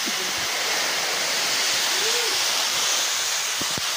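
Makiling Falls at a Laguna hot springs resort, a loud, steady roar of falling water filling the scene, with faint voices briefly audible beneath it.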